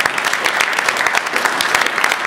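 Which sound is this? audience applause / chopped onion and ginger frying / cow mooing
audience applause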